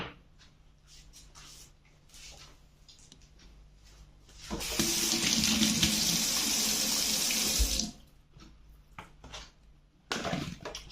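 Kitchen tap water runs hard into a sink for about three seconds while fruit is rinsed for a fruit charlotte, a loud steady gush that starts and stops abruptly between quieter handling noises.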